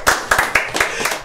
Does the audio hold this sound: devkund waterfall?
no